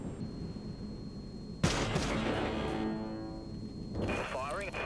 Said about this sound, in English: Firing amplifying weapons